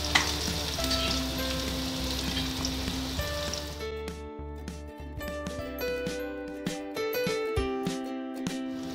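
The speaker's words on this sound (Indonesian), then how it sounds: "ni dia minyak dah panas. Kita masukkan bawang merah dulu." Shallots and ginger sizzle in hot oil in a home kitchen, a loud steady fry that settles into softer crackling with light clinks of a utensil stirring.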